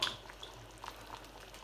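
Charcutière sauce with mustard bubbling gently in a pan, a faint, soft simmer with scattered small pops over low kitchen background hum.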